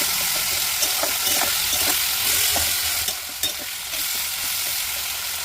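Chopped snake gourd fries in a pan with a loud, constant sizzle, while a spatula stirs and scrapes in irregular clicks near the pan, with no voices.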